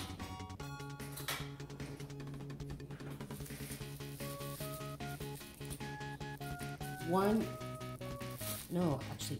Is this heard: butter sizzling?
yes